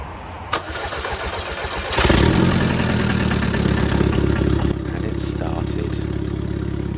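An Audi TT engine cranks and fires up with its downpipe disconnected, then settles into a loud, rough, tractor-like idle with a steady rumble close by; no one speaks.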